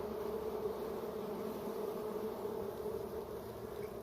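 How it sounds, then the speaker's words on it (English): A honey bee swarm hums steadily as it moves into a box from the ground outdoors, a dense continuous buzz with no talking. "the bees are inside the box, and then I have the bees on the ground"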